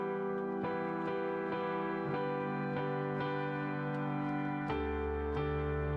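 Keyboard piano patch with a long, gritty, dark sustain: slow repeated chords ring out and overlap, each new strike blooming over the last, thick and slightly distorted in the low end, with no speech.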